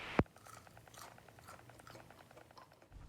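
A single sharp crunch of biting into crispy fried chicken tenders, followed by quiet, soft chewing close to the ear.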